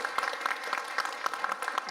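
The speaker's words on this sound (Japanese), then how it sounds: "それでは皆さん三浦さんにもう一度大きな拍手をお送りください" At a youth summit session, an audience gives a round of applause, with rapid, distinct hand claps from a modest group, steady and moderately close throughout the short burst.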